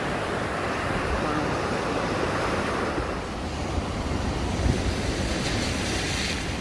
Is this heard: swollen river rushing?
yes